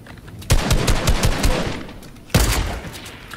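Gunfire in Fortnite Battle Royale: two bursts of rapid, loud, close automatic shots, the first running about two seconds and the second starting near the end.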